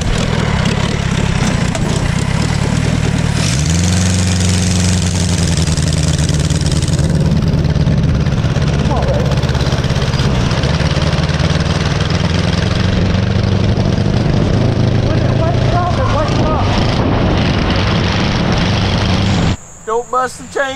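Military four-cylinder engine on a homemade go-kart running steadily at a loud, close idle with a rough low drone, changing pitch once early on; voices are faintly heard under it.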